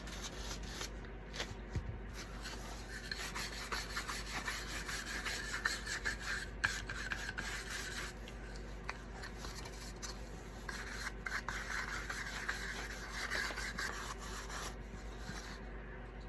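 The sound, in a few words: brush applying clear wax to a wooden shutter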